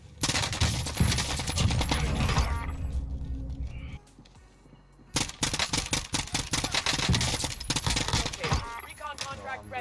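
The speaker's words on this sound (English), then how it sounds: "Who's shooting at me?" Video-game gunfire from an AN-94 rifle and other weapons, loud rapid bursts of close shots that stop briefly in the middle and then resume in dense volleys, with a player's voice talking over parts of it.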